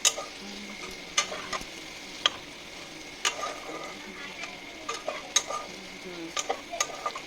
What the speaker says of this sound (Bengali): তাই এখানে একটু ভালো করে কষিয়ে নিচ্ছি, যাতে মশলাগুলো ভালো করে এর মধ্যে ঢুকে যায় আর কপি আলুগুলোও আর একটু ভালো করে ভাজা হয়ে যায়